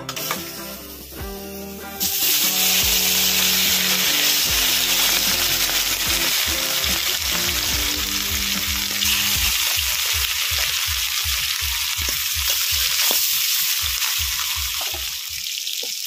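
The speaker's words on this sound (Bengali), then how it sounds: "তেল ভালো করে গরম হয়ে গেছে। এখন মাছগুলো ভেজে নেব।" Fish frying in hot oil in a wok gives a loud, dense, continuous crackling sizzle that bursts in abruptly and holds steady, with faint rhythmic clicks and background music underneath at the start.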